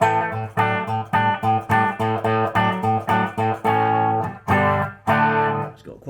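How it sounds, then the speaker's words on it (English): Bass guitar played in a choppy repeated rhythm through a harsh, distorted Epiphone Elektar tube amp with low gain, notes cutting off abruptly between phrases. "It's got quite an unpleasant distortion, even with the gain really low"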